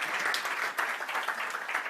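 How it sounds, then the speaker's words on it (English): A conference audience at a PowerShell event claps for a presenter in a short burst of steady, moderately loud applause from across the room. "A little applause for Jordan."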